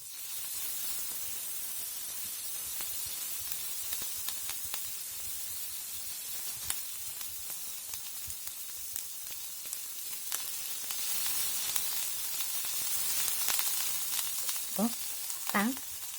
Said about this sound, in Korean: 일단 버터를 잘 녹여줘야 돼요. 마늘 언제 넣어야 돼? 자, 마늘도 같이 넣어주고